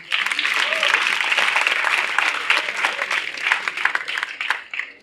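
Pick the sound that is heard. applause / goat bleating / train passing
applause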